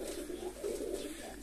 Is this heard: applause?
no